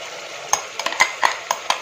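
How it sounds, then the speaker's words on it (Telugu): Ground masala frying in oil in a pan for a country chicken curry, a low sizzle under a series of sharp metal spoon clacks against the pan as it is stirred, about six taps spread across the moment. "పచ్చి మిక్సీ వేసుకుని బాగా నూనెలో వేపు."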